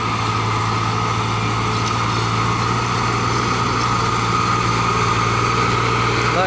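Small Green 260 tractor engine running steadily and loud throughout, a continuous low hum with constant mechanical drone and no pauses.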